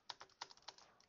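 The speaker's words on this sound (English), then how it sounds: "maybe I'll type a title here" Fast typing on a computer keyboard, a quick run of crisp key clicks, the first few sharper and louder, the rest lighter, faint and close in a quiet room.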